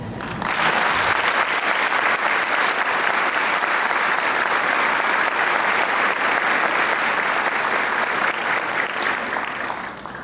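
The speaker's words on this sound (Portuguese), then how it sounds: "Palmas para eles." Steady, sustained applause from an audience at a live book launch, loud and even throughout, with no talk over it.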